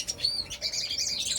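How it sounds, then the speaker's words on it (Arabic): A siskin sings close by in quick, high twittering chirps that come in short bursts, fairly soft, with no voices. "هانتوما تتسمعوا يعني السيسكن يعني سبحان الله العظيم يعني تيغرد"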